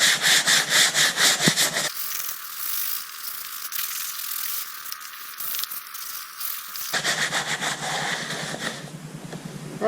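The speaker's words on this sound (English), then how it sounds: "I'm just going to start scrubbing on it" A brush with Dawn dish soap scrubs a Weathertech floor liner mat in steady close back-and-forth strokes, loud at first, quieter midway, then vigorous again.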